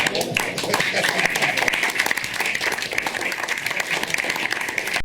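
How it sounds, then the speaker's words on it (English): Cabinet members applaud at a cabinet meeting, a dense continuous patter of clapping from many hands filling the room throughout, with some voices mixed in underneath. "And then they were clapping for Elon Musk."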